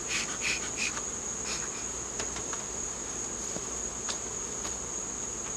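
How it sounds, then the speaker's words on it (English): Honey bees buzz at a hive in a steady high drone close by, with small clicks and taps scattered through it. "We're going to smoke the bees down off the top bar here."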